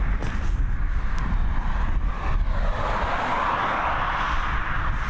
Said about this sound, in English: It looks like we've got an A330 going to start taxiing its way towards us very,